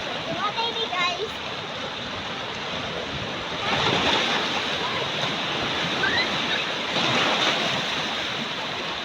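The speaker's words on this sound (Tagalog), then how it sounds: "Kay baud-baud ang dagat oh" Sea waves wash steadily against the shore, a broad continuous roar of surf that swells twice, with gusty wind noise over the outdoor microphone.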